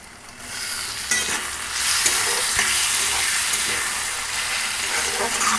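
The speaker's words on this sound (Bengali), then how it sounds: "পেঁয়াজ আর টমেটোটা ভাজা হয়ে গেছে" Onion and tomato fry in a pan for a Bengali moong dal with catla fish head, the loud sizzle rising after a brief lull and running on with stirring scrapes and steamy hiss.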